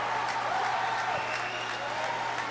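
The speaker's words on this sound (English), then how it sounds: "This crowd's going crazy right now." Crowd cheering at a boys' high school basketball game in Conrad Gymnasium: a continuous, loud wash of crowd noise and applause that stays steady throughout, with a low hum beneath.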